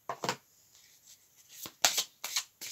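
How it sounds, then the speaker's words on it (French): Tarot cards shuffle in short, close riffling bursts separated by quiet pauses, about four bursts with nobody speaking. "Alors, je sors trois cartes pendant que je trie."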